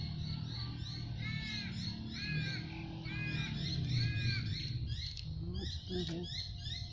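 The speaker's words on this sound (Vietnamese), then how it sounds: "chiếm hót đủ loại" Several birds call and chirp at once in Sydney, with repeated rising whistles and squawks over a low background hum, fairly close and lively.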